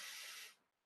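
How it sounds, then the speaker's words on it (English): Water spraying from a straw-and-rubber toy blown into a glass of water, a brief hissy spray burst lasting about half a second that cuts off abruptly into quiet. "You see a jet spray comes out"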